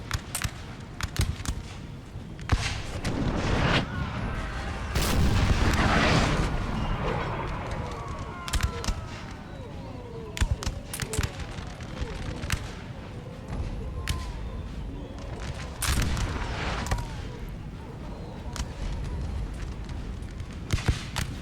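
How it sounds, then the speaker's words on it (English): Artillery fire in Napoleon: Total War rumbles as a long series of irregular booms, thuds and cracks, some close and loud and others more distant, with a swell of battle noise partway through and no voices. "Looks like the artillery is targeting this position."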